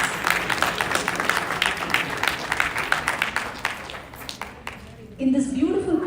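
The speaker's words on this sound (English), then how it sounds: "let's give her a big round of applause" Audience applause following a graceful dance performance, steady mid-level clapping from a crowd that thins out toward the end, followed by a brief tonal sound as the clapping stops.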